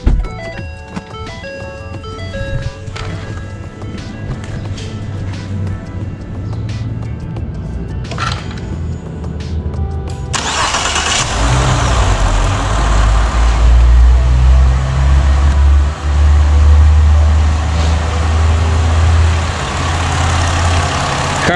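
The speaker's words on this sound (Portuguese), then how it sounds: "Vamos dar só mais uma girada com o motor agora com a temperatura ideal, só para ver?" A warmed-up Ford Fusion SEL engine running on Motul 5W20 oil, heard close: a steady low idle that grows louder and fuller about halfway through, holding a sustained rumble to the end.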